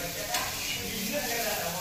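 Bitter gourd pieces sauté in a hot pan, a close, continuous sizzle with scraping stir sounds and a faint voice underneath.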